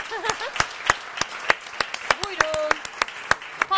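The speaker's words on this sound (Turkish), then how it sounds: "Alkışlar istiyorum" Distinct handclaps in a steady rhythm, mixed with voices talking and calling out nearby, sounding like a small group clapping close by in a kitchen after a carrot cake is finished.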